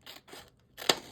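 Scissors snip through paper for a layered junk journal craft project, two light cuts followed by a sharper, louder closing snip, close up and alone.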